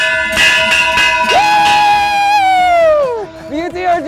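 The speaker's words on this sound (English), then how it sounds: "Ring that bell!" A bell rings loudly at the opening of a university coaches' show for the start of baseball season, its sustained tones ringing out and slowly fading amid crowd noise.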